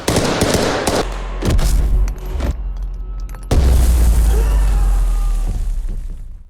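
A grenade blast in a war film lands as a heavy boom amid bursts of gunfire, followed by a loud, sustained rumbling roar that slowly tails off.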